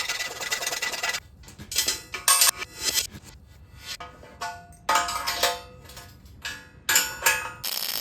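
A hand file rasping back and forth on a steel nut to fit it for welding into a vise stand, in bursts of several bright, gritty strokes separated by short pauses.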